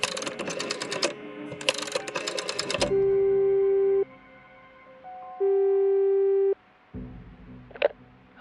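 Steady telephone call tones in the video game Frequency Missing: two long, even ringing beeps, each about a second long with a pause between them, following a burst of busy electronic clatter and ending in a few brief chimes.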